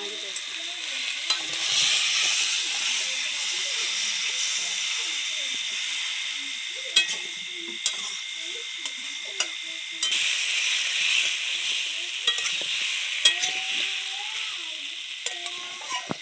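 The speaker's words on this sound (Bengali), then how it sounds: "এবার আলু দিব" Potato pieces go into spices frying in a pan for a home-style rui fish curry and are stirred, giving a steady loud sizzle and hiss with scraping stir strokes and occasional clinks throughout.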